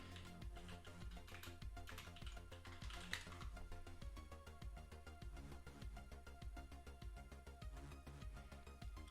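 Steady, rapid clicking of a computer keyboard as code is typed, a dense stream of close, soft keystrokes running throughout with no talking.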